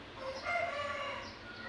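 A fighting cock crows once, fairly faint and distant against low background noise.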